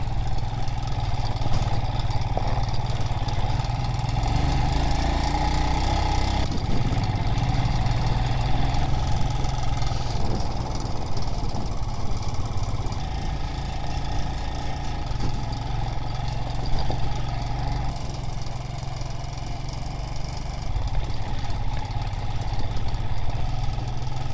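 Steady low motorcycle engine drone runs throughout while riding on Vietnam's Hà Giang Loop, a continuous mechanical rumble with slight shifts in pitch, like a motor humming along while moving.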